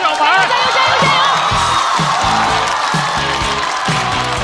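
A stand-up comedy audience roars with cheers and whoops, clapping under loud, pulsing music and shouted chants, the crowd noise dense and continuous.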